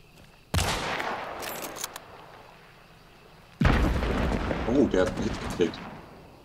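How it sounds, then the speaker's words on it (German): A shot barrel exploding in the video game Hunt: Showdown: two separate loud, close blasts a few seconds apart, each with a sharp onset followed by a long rumbling, crackling decay. "Hast du aufs Fass geschossen?"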